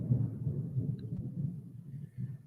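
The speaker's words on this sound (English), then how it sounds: "Did you guys just hear that thunder?" Thunder during heavy rain rolls as a low, rumbling swell that surges and fades across a few seconds, moderately loud with no voices over it.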